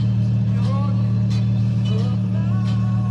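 A car fitted with a Corsa exhaust gives a deep, steady low rumble throughout, while people talk over it in the cabin.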